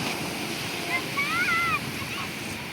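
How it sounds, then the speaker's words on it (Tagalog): Big ocean waves rush continuously beneath strong wind buffeting the microphone, with a brief high call or voice rising over the roar. "Oh, malalaki alon."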